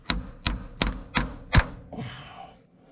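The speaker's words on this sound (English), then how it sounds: "Give her a little tap, tap, tap. Tap it in. Just tap it in." A hammer taps a driveline part into place on a 1980 Peterbilt 359 truck with driveline problems: five sharp, evenly spaced metallic knocks close by, followed by a faint scraping settle.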